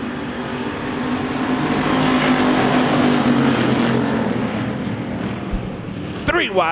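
Race cars roar around the oval at Devil's Bowl Speedway during a heat race, a steady loud engine drone with wind buffeting the microphone and a commentator's voice running over the top.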